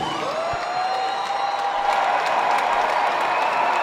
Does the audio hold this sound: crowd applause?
yes